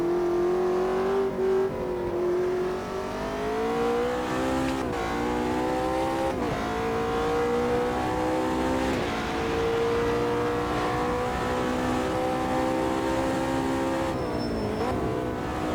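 A race car engine in the Automobilista 2 sim racing game at the Nürburgring Nordschleife holds a high, steady whine, rising in pitch as it accelerates, with brief dips at gear shifts and a tire squeal, loud and continuous.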